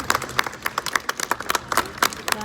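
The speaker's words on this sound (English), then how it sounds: "let's give them a nice big round of applause and help welcome them to their stage." An audience claps at a sea lion show, a steady patter of hand claps from a modest crowd, crisp and fairly close, with individual claps distinctly audible in a lively uneven rhythm.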